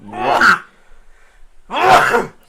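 Two loud sneezes, close up, with a short pause between them and faint breathing in the gap.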